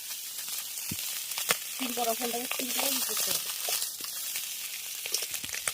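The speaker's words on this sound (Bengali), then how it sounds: "মাছগুলো ভেজে নিয়েছি এবার তুলে নেব" Small canal pabda fish frying in oil in a pan, a soft continuous sizzle with occasional pops and spoon clicks, faint and close, with a brief murmur of speech partway through.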